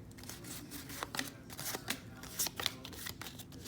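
Trading cards are riffled and flipped through by hand close up, giving quick soft flicks and snaps in uneven bursts, quiet throughout.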